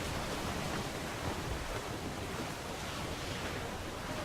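Ocean water crashes over a ship in Assassin's Creed IV Black Flag, a dense, continuous roar of surf and spray with wind-like rushing throughout, loud and unbroken.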